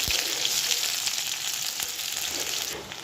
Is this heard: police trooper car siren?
no